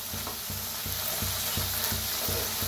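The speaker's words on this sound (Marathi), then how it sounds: "मीठ टाकून भाजूया, हलवून भाजून घ्यायचं" Steady sizzle of oil and salt roasting in a pan, with a spatula scraping and stirring at a regular rhythm about every third of a second, close and continuous with no talking.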